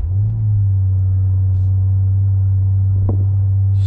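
A BMW Z4 M40i LCI engine building turbo boost on launch, heard as a loud, steady low-pitched drone inside the car, with a faint brief tick near the end.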